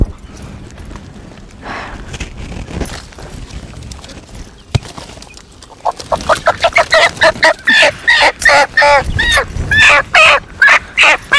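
Native desi chickens, including white and black hens, cluck in a rapid run of loud, close calls that build in the second half after quieter, scattered sounds at the start.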